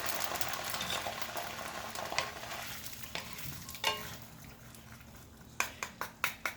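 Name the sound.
Chinese long beans stir-frying in water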